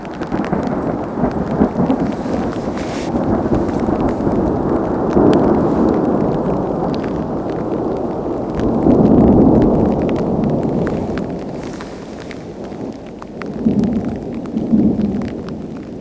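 Thunder rolls through a big summer mountain storm, long deep rumbles swelling and fading over about sixteen seconds, loud and sustained with no voices.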